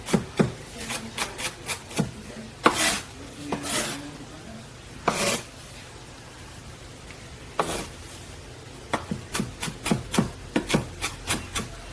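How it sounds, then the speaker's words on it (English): A Misen 8-inch high-carbon chef's knife chops food on a cutting board in quick rhythmic bursts of sharp taps, pausing midway before a fast run of chops resumes, close and clear with no talking. "use the weight of the knife to do the chopping"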